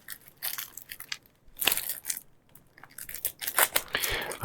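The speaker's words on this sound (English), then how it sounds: "Let's open some of these up. I've got some scissors somewhere," Scissors cutting open board game packaging, a scattered run of crisp snips, crinkles and tearing of plastic wrap, close and moderately loud in uneven bursts, with no talking.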